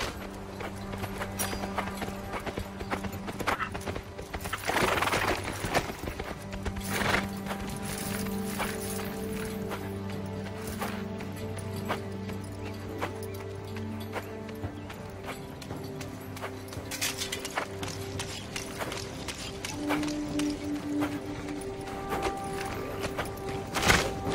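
Horse hooves clip-clop steadily along a road in the video game Fable Journey for a long stretch, mixed with a sustained musical drone and occasional louder knocks.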